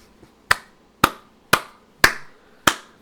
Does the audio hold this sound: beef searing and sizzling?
no